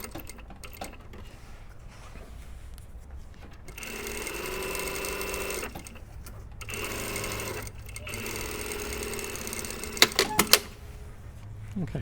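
A sewing machine stitches a bustier panel in several steady runs of rapid mechanical whirring, stopping and starting between them, with a few sharp clicks near the end and faint talk in the gaps.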